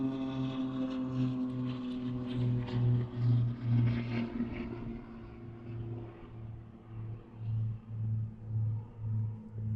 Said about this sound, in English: A moment for the airplane to pass.